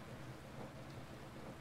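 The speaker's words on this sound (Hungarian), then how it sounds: "Ú, bazd meg eső." Rain patters in a rally racing game as a steady, soft, broadband hiss with no distinct drops or thunder cracks.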